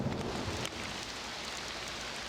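Steady rain falling in a Halloween-themed park in the video game RollerCoaster Tycoon 3, a dense hiss of drops on surfaces with a faint low rumble, continuous and without voices.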